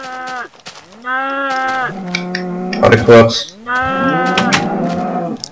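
Cows moo repeatedly in the Minecraft video game, several drawn-out calls close together, with someone speaking briefly between them.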